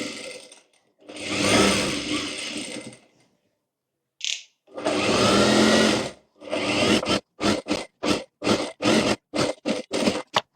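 A sewing machine stitches a katori blouse in long whirring runs, pauses, then a rapid series of short stop-start bursts, loud and close with no voice over it.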